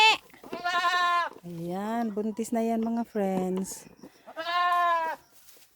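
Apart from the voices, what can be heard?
goat bleating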